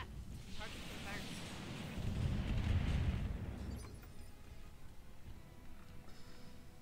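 A volley of LRM missiles strikes a target in BattleTech, a deep rolling rumble of impacts swelling for a couple of seconds and then fading under low background game noise.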